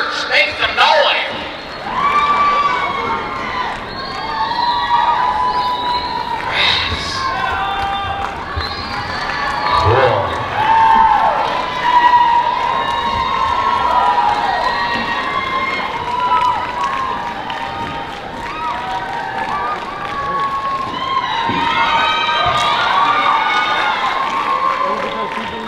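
An audience at the Heiva San Diego pageant cheers, whoops and shouts in a sustained roar, with children's voices prominent and the noise rising and falling over about half a minute while a voice talks over it.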